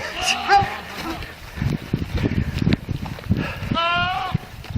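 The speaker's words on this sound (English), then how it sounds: "Instead, it was a goat." A male goat bleats in a farm barn, a strained, wavering cry near the start and another near the end, with a person talking in between.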